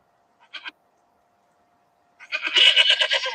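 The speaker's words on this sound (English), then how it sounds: "That's definitely goat." Goat bleats from a played recording: a short faint bleat near the start, then after a pause a longer, louder, wavering bleat at close range, with no talking.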